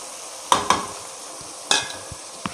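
A spoon stirring masala, chili, turmeric, cumin, coriander and pepper powders into tomatoes frying in a pan, with a few distinct scraping strokes over a steady low sizzle, close and clear.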